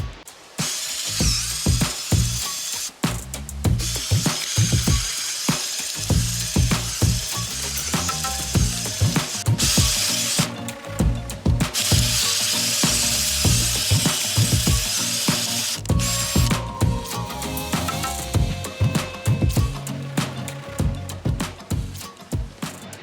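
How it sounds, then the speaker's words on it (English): A power-drill garden auger bores down into rocky dirt, whining and grinding loudly in bursts with ratcheting, clattering stones and brief pauses between runs. "with the auger, as it's going down into the dirt, it will kick up the rocks that might be in there"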